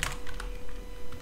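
Typing on a computer keyboard during a Blender session, a few quiet key clicks in short bursts at the start, middle and end, with no talking.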